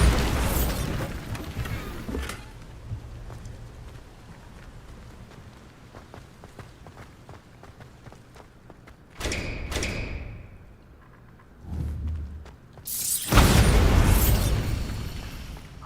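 A Bombarda spell explosion in the video game Hogwarts Legacy: after a stretch of low rumbling ambience, several heavy booming blasts and thuds land a second or two apart, the last one the loudest and longest.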